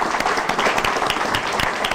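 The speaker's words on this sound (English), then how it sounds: "I hope our audience members will give both candidates a big round of applause for a job well done" An audience at a state senate candidate forum applauds, dense continuous clapping from many people at a steady, fairly loud level throughout.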